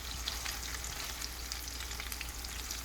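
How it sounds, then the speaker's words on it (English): Two tablespoons of butter with a teaspoon of garlic powder and xanthan gum sizzle steadily in a skillet, a continuous close frying hiss with small pops, no voices. "what I have in the skillet is 2 tablespoons of butter, a teaspoon of garlic powder, and the xanthan gum"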